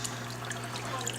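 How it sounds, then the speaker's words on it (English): Water flowing in a 130-gallon reef aquarium, a close, continuous trickle and splash over a steady low pump hum, with no voices. "As you can see, I got very good water flow for my reef."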